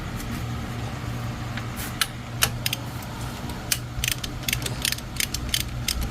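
Head stud bolts come off an Aerox/NMAX scooter engine with a ratcheting wrench: a steady low mechanical hum under scattered sharp metallic clicks and ticks that grow denser toward the end, close by.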